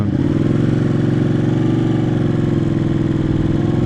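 Motorcycle engine running steadily just after a start on a cool day, a loud, close, even idle with a constant low rumble and no revving.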